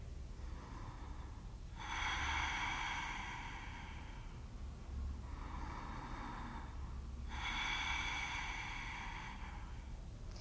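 Deep, slow breathing during a postnatal yoga bridge pose, three long airy breaths, each swelling and fading with quiet gaps between, close and unaccompanied.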